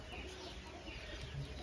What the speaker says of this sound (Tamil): இது ஃபுல்லா நாட்டுக்கோழி தான்.